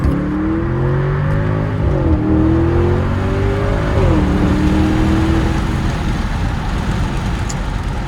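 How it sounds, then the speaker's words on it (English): A 2021 Audi SQ7, a 500 hp performance SUV, revs loud and close on a downshift, its engine pitch jumping up in quick stepped surges before settling into a steady roar with heavy road and wind rush. "To that downshift."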